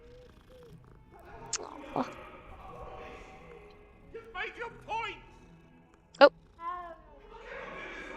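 A cat in a Hogwarts Legacy game world gives short meows and purring sounds, scattered between quiet moments while a player speaks a few brief words.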